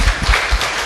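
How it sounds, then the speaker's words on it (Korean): Brief burst of audience applause during a live radio talk show event with a mystery novelist, a loud dense clapping wash lasting under a second. "여기서 박수 한번 나올까요?"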